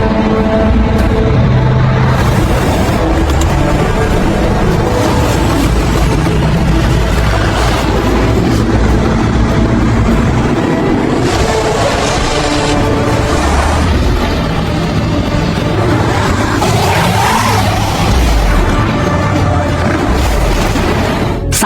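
A truck chase along a snowy road in an action film: dense, loud engine roar and rumbling vehicle noise with booming hits and scattered crashes, constant throughout, over a busy mixed soundtrack.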